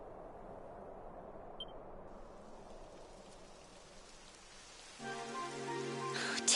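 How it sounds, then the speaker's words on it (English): Rainfall in the Dragon Quest XI video game begins as a soft hiss, then swells louder near the end as heavier rain and a tonal layer set in. "It would have to go and start raining, wouldn't it?"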